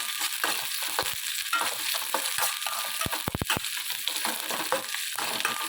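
Onions sizzling steadily in a pan as they fry, with a few sharp scraping stirs of a spoon against the metal, while a person speaks briefly over the cooking.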